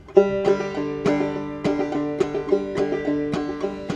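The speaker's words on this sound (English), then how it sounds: "the first skill that we learn is the basic frailing strum, which sounds like this" A banjo plays a basic frailing strum, bright plucked notes and brushed strums in a steady, bouncy rhythm, close and solo with no voices.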